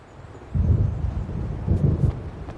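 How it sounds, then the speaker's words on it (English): Rolling thunder from a storm in the video game Alan Wake Remastered, two deep rumbles over a bed of wind and rain ambience. "It seems there's a storm coming."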